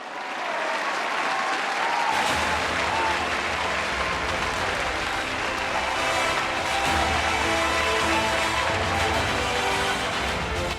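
Sustained, loud applause from a large conference audience welcoming Akhilesh Yadav onto the stage at an Independence Day conclave, dense and steady throughout with a faint crowd murmur underneath.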